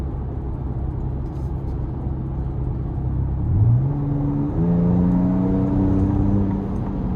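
A 2026 Ford Ranger Raptor's exhaust in Baja mode idles with a deep rumble, then revs up twice, the engine note rising and holding in a throaty, steady drone.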